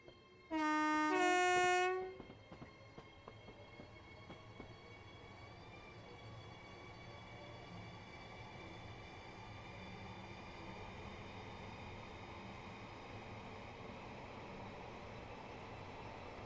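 A train horn sounds in two short tones, then the train applies power and pulls away, a steady rumbling traction hum building gradually, heard from inside or close by.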